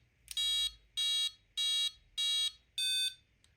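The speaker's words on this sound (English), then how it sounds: "Let's count our beeps." A Futaba RC receiver kill switch emits five evenly spaced electronic beeps, each about a third of a second long, bright and clear against a quiet background.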